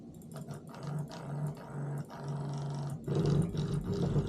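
Simagic P-HPR haptic brake pedal vibrating, a low, buzzing rumble in rhythmic pulses of roughly half a second, steady and fairly faint, close up.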